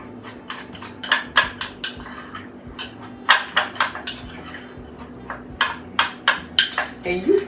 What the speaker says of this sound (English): We're going to give it a stir.